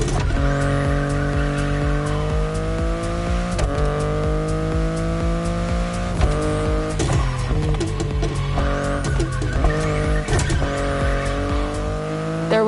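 BMW i8 sports car driven in the racing game The Crew Motorfest, a loud continuous engine drone with gear-shift steps in pitch and bursts of tire squeal, steady throughout with no talking.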